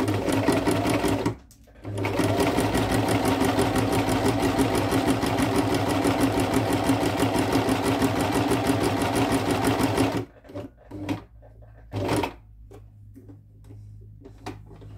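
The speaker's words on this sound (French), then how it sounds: "Et hop, on vient coudre tout le long." Sewing machine stitching along a fabric pouch, a steady fast mechanical whir running continuously for about ten seconds with one short pause near the start, then stopping, followed by a few brief bursts and light handling noises.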